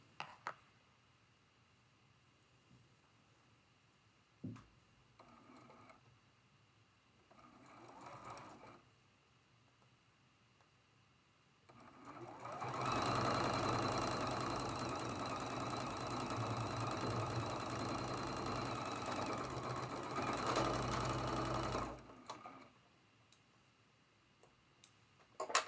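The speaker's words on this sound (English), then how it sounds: "And this is the seam we are sewing." A sewing machine stitches a seam on a traditional Grandmother's Cross quilt block, running steadily and loudly for about ten seconds, with quieter handling sounds before and after and no talk.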